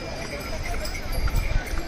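Horses and mules climb the Yamunotri pilgrimage trail in Uttarakhand, their hooves clip-clopping in a busy, uneven patter among trail noise and voices.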